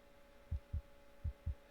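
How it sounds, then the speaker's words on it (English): Four low, muffled heartbeat thumps land in two evenly spaced pairs over a faint steady hum, with no other sound around them. "You feel your heart beating in your chest"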